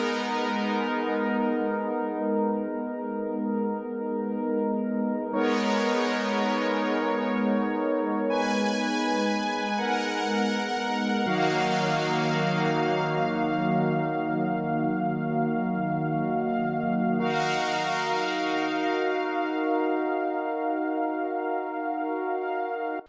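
A Sky Keys synth pad sustains lush, bright chords that shift every few seconds, each new chord blooming with a shimmering attack; steady, loud and alone with no voices.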